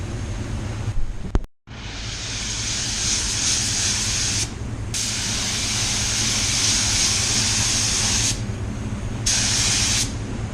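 A paint spray gun lays wet coats of pearl white paint in loud, close, steady bursts of airy hiss, broken by a few short pauses between passes.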